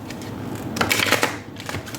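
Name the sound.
shuffling tarot cards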